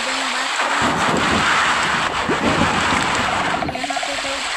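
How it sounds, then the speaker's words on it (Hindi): Heavy rain and thunder in the video game Township, a dense continuous rain hiss with low rumbling thunder throughout and a brief tonal chime near the end. "यहाँ पे तो बहुत ही खतरनाक बारिश हो रही है"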